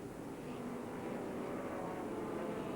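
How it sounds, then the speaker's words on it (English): A loud, steady V8 race car engine roar drones on without a break at Silverstone, a deep throaty rumble that holds the same level throughout. "that distinctive V8 howl through the matte white exhaust pipes"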